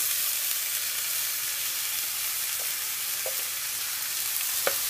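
Onions brown and frying in a pan with tomatoes and bitter gourd stirred in, giving a steady, close sizzling hiss with a few soft clicks of the spoon near the end.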